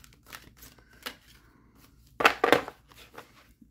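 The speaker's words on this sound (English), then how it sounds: "I'll just give them a shuffle here." A deck of oracle cards is shuffled by hand, with soft papery riffles and taps, a louder burst of card flicks near the end, all close and quiet in a still room.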